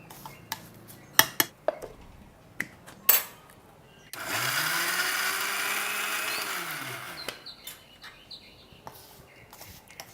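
Chana dal being ground coarsely in an electric mixer: a three-second motor whir that spins up and winds back down, framed by sharp clinks and taps of the jar and lid before and after.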